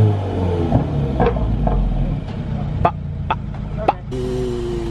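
A BMW F30 engine revs in short sharp two-step bursts with popping crackles from the exhaust, fairly close, with a few brief voices mixed in.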